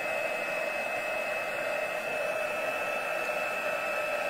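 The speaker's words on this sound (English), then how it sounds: "watch the magic happen when the heat tool gets it." A heat embossing tool blows steadily for heat embossing on a faux tile card technique, a constant loud whooshing hiss with a high whine, uninterrupted and with no talking.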